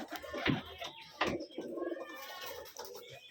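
Flying-breed pigeons coo nearby on a farm in a series of low, throaty, rolling calls that overlap one another.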